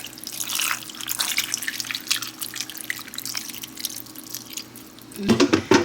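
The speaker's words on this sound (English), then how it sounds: "I'm gonna pour my broth in there." Broth poured into a cooking pot with carrots, a steady trickling, dripping stream running throughout before a louder splashing burst near the end.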